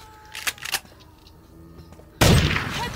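Gunfire in a zombie shooter game: a couple of sharp shots early on, then a sudden loud burst of gunfire that keeps roaring to the end, with no voices over it.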